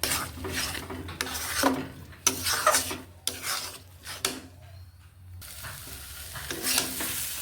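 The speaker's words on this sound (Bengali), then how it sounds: "এটা ভালোভাবে এইভাবে নাড়তে হবে।" Semolina is stirred in a pan, with a series of rasping, scraping strokes against the metal in uneven bursts, close and fairly loud, with brief pauses between them and no voices.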